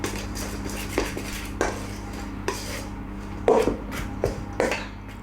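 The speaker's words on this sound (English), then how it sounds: "the easiest way I find to mix dough is with a butter knife" A butter knife mixes dough for Brummie bacon cakes in a bowl, making repeated scraping strokes and sharp clinks of metal against the bowl at an irregular rhythm, close up with no talking.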